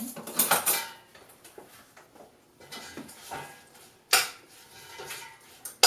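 A spoon clinks and scrapes against a pot while ingredients are stirred in a vegan cooking class. Bright metallic taps come in scattered bursts, close by, with quieter shuffling between them.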